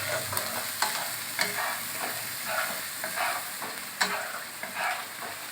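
A hilsa fish head fries and is stirred in a pan with turmeric and chili powder: a steady close sizzle broken by repeated scraping and clacking stirs, with no one talking.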